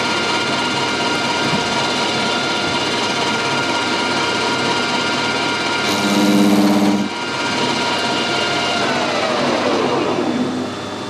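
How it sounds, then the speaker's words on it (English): A metal lathe turns a piece of good-grade steel while a 60-degree carbide tool cuts a chamfer on the end, a steady loud motor hum with a brief rising whine as the tool bites, alone with no talk. "Now you got back to the 60-degree tool just to put a nice little chamfer on the end."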